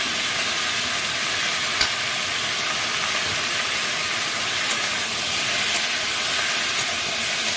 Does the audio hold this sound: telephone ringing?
no